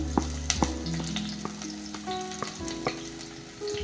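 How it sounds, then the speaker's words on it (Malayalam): Half a sliced large onion and five finely chopped small red onions, or shallots, sizzle in a pan for a Kerala-style fish curry. Busy, close frying runs throughout, with sharp spatters and stirring clatter and no voices. "പകുതി സവോള അരിഞ്ഞിട്ട് കൊടുക്കാം പിന്നെ ഒരു അഞ്ച് ചുവന്നുള്ളി ചെറുതായിട്ട് അരിഞ്ഞത് ഇതിൻ്റെ കൂടെ ചേർത്ത് കൊടുക്കണം"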